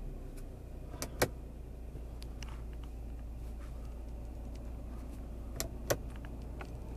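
Turning the ignition of a Kia Sportage brings a couple of sharp, isolated clicks over a steady low hum inside the car, with no engine start heard.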